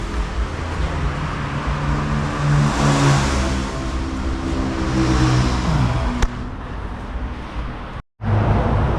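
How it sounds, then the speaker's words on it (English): A small car's engine rises and falls in a steady rev, close and loud over constant road noise, with a short dropout near the end before the engine picks back up. "Cool little car right there"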